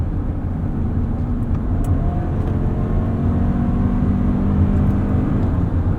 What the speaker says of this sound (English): it all kind of blends into the road and wind noise once you're on the highway